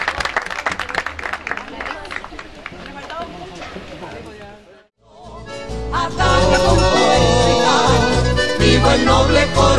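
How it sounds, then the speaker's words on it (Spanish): A crowd at a rodeo in San Felipe claps and cheers in a dense, continuous wash of applause, briefly dropping out before surging back louder, with an announcer's voice and music mixed in. "falta el aplauso para estas colleras por su logro deportivo"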